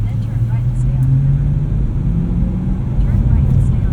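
A BMW E92 M3 with a six-speed manual pulls away, its engine giving a steady, loud low drone with a rising pitch from inside the cabin and no voices over it.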